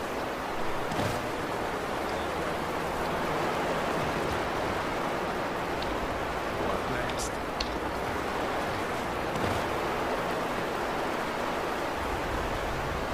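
A steady waterfall roar in the game Skyrim, a constant broadband rush of falling water heard close and unbroken throughout, with faint small clicks over it.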